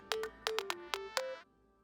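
A phone ringtone plays a short melodic pattern of bright tonal bursts, about six notes in quick succession, then stops, clear and fairly quiet with no talk over it.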